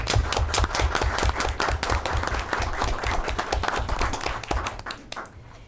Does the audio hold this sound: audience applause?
yes